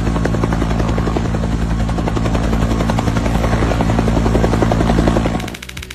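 Helicopter landing on a tiny trailer: loud, close rotor chop and turbine whine throughout, then the engine noise drops sharply near the end.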